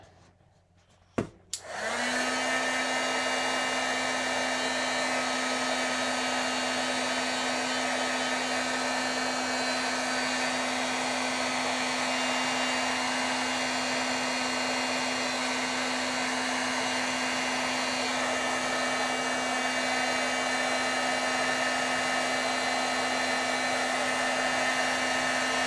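A heat tool blows steadily to set paint on stamped artwork, a loud, constant whirring hum with a high fan whine that switches on after a brief click and runs on alone.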